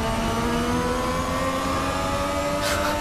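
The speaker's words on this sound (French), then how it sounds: "Tu sais ce que j'ai l'impression d'entendre, espèce de proto là, qui est pas la KTM" Racing prototype engine in Forza 6 revving steadily and loudly at high pitch, a continuous buzzing drone with a slight rise, heard alone.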